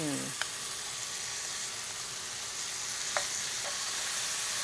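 Chicken pieces frying in oil with butter give a steady, loud, close sizzle throughout, broken by a few faint clicks of pieces being set into the pan.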